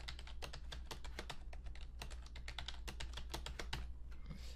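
Fingers tap out a quick, irregular run of keystrokes on a computer keyboard, close and fairly quiet over a low steady hum, with no voices.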